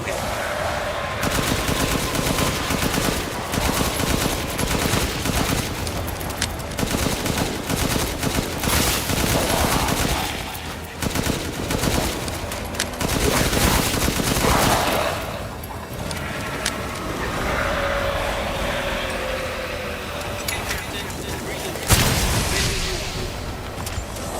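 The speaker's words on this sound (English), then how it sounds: "Come on, shoot it!" Dense, rapid gunfire from a survival horror video game set in forest caves, with near-continuous bursts of shots and booms over a loud, busy mix for most of the stretch, and a voice talking underneath.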